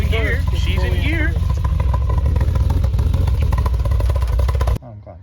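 A BMW E28 535i engine running in gear pops and clatters loudly and close up with a steady low rumble, while people talk over it before the sound cuts off abruptly near the end.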